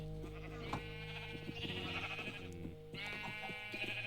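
Sheep bleat several times in Minecraft over a steady musical backdrop, fairly close and clear.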